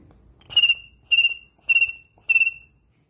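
A voice imitates a cricket: four evenly spaced, shrill chirps, each a short buzzy trill, heard close and clear against a quiet background.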